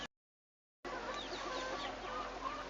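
Chickens cluck and chatter softly at feeding time on a small farm, a steady low flock murmur that starts after a brief silence, with occasional sharper calls over it.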